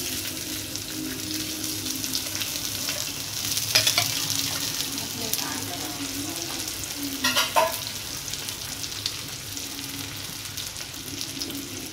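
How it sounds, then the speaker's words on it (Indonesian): Luffa stir-fries in a wok with sliced ginger, garlic and shallots, giving a steady close sizzle with occasional louder bursts as the food is tossed and stirred. "sekarang kita akan tumis sayur gambasnya ya"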